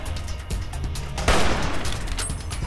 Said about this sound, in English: I shot his weapon out of his hand.